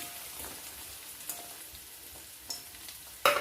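Shallots and coconut pieces fry in oil, a faint, steady crackle with a few light stirring clinks, and a sharper clatter right at the end.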